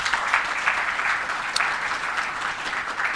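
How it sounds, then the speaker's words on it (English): Steady applause from a crowd, dense and sustained clapping throughout with no voices standing out. "I think he deserves another round of applause."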